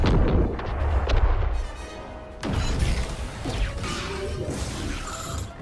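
Planted charges detonate aboard a starship in Star Wars Battlefront 2, two heavy booming explosions a few seconds apart, each followed by rumbling debris and crashing metal, loud and close.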